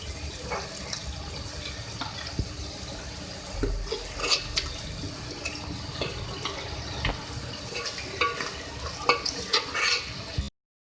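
Green coriander being stirred into a mutton curry, a steady wet scraping and gentle sloshing with scattered spoon knocks that continue for about ten seconds at a close, moderate level.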